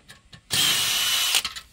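Power drill with an extension backing a screw out of an electrical disconnect box mounted on a brick exterior wall: one close, loud whirring burst lasting under a second, framed by light handling clicks.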